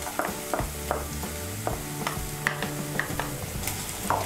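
Onion, garlic, green chili and grated ginger frying in a pan, a constant bright sizzle punctuated by regular metallic spatula clicks and scrapes, heard close without voices.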